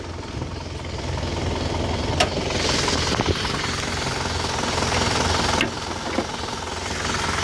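A 2001 Isuzu Panther LV with a 2.5-litre diesel engine idles steadily up close, a loud, even rumble with a rough knocking clatter and a few brief clicks over it.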